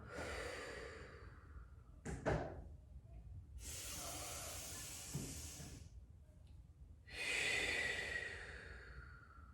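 Slow, deliberate exhalations during a children's yoga breathing exercise, a few soft breathy puffs and hissing blows spaced apart in a quiet room, close and gentle with no voices.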